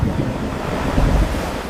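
A flooding river rushes in a dense, continuous roar, with low turbulent rumbling and wind noise and no voices.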